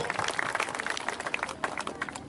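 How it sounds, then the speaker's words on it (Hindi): A crowd at a political rally led by Navjot Singh Sidhu in Madhya Pradesh applauds with quick, irregular clapping mixed with shouts, moderately loud and continuous for a couple of seconds. "ठोको ताली ठोको"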